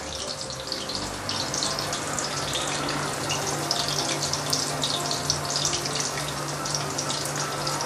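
Meatballs fry in oil over medium heat, giving a steady, dense sizzle that holds at an even loudness throughout, close up and without talk.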